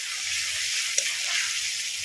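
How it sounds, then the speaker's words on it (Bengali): A cumin and chili spice paste fries in a pan with a little water added, giving a smooth, even hiss with one faint tap partway through and no talking. "জল দিয়ে মশলাটাকে ভালো করে কষিয়ে নেব"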